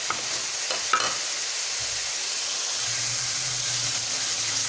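Ground onions and spices cook in a pan for fish salan, giving a steady, close sizzle with a few soft stirring scrapes and a low hum underneath, and no voices.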